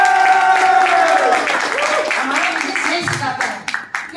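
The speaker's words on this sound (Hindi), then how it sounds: "मैं एक बार जोरदार तालियां" Audience applause at a leadership meet fills the hall: dense, steady clapping with some sustained tonal sounds over it at first, easing slightly toward the end.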